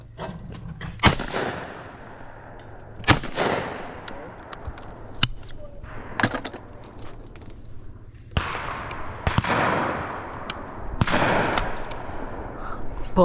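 Shotgun blasts at an outdoor clay shooting meet, several loud sharp reports spaced irregularly, some trailing into echoing rumble, with faint calls and voices between shots.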